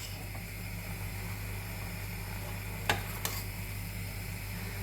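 Mushrooms and onion frying together in a pan for mushroom soup, a soft steady sizzle under a low constant hum, with two brief sharp clicks or scrapes near the end, close and fairly quiet.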